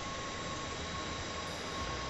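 Inside a moving Dutch train bound for Schiphol, a constant rumbling roar of wheels and carriage noise with a faint steady whine and no speech.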